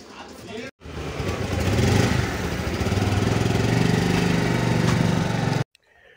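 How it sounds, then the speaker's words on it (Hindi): Motorcycle engine running steadily and fairly loud while riding along a road toward a Shiva temple, a continuous drone with a brief cut near the start and the end. "ये हमारी बाइक है और बाइक से हम जा रहे हैं मंदिर की तरफ"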